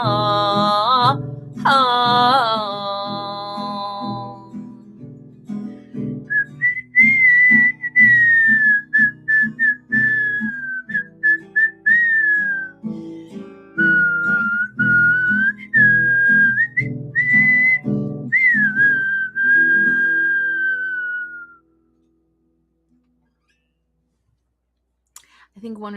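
A woman whistles a melodic tune clearly and close up during a livestream performance, with clicking sounds and some vocal notes early on, ending in silence.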